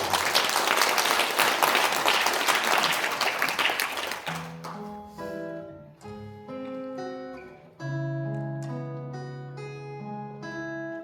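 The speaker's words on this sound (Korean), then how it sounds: "박수 부탁드립니다." Audience applause in a large conference hall at a National Assembly rally, a dense round of clapping that lasts about four seconds and then stops as a choir or musical performance begins.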